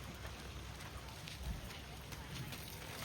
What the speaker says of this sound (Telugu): ఏదో వర్షం స్టార్ట్ అయింది.